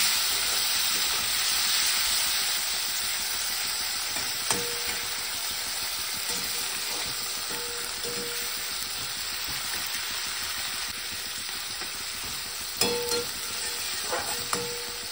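Chopped tomato frying in hot oil with dried chillies and cumin, a dense continuous sizzle and hiss throughout, close and steady, with a few faint utensil knocks near the end.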